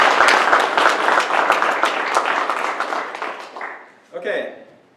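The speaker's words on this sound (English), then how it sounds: "let's give an extra round of applause for everybody." Lecture-hall audience bursts into sustained applause after a class project is honoured, dense clapping for about four seconds that tapers off, with a brief voice near the end.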